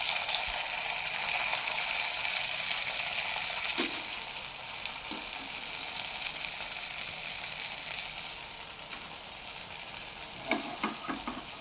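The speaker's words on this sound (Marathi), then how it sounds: "हे पूर्ण आता इथे वडे तळून झालेले आहेत" Sabudana vadas fry in hot oil with an even, moderately loud sizzle and crackle that runs throughout, dotted with a few faint clicks and knocks.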